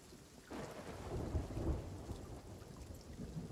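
Stormy sea in a video game, with a sustained wash of heavy rain and a low rumbling roll of thunder building near the start, steady and alone.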